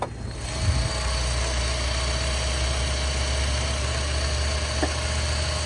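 A 2012 Chevy Cruze with a 1.4 liter four-cylinder engine and automatic transmission idling under the hood, a steady, even hum heard close up with no talking.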